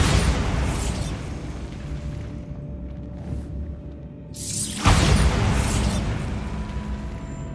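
The Bombarda explosion spell going off in the Hogwarts Legacy video game: loud, dense roaring blasts with a brief lull, then a sharp boom that rolls into a long rumbling burst.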